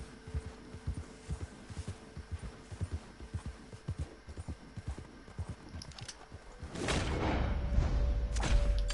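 Steady clip-clop of horse hooves in an even walking rhythm in the video game Red Dead Redemption 2, followed by a louder rushing whoosh near the end.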